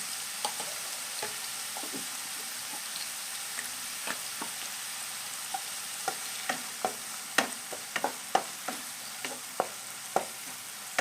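A teaspoon of ginger-garlic paste fries in hot oil in a pan for samosa filling, giving a steady soft sizzle. Sharp scrapes and taps from stirring come irregularly and grow more frequent toward the end.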